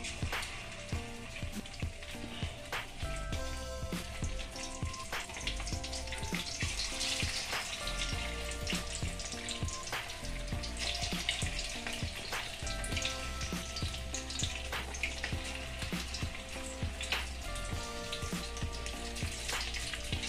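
Chicken pieces coated in egg and cornflour fry in hot oil, a dense, steady crackling sizzle that holds close and continuous for the whole stretch with no voices over it.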